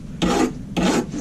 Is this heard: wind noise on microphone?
no